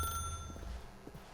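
A brief, faint trill of a ringing telephone in The Stanley Parable video game fades quickly, leaving soft, muffled footsteps in a quiet room.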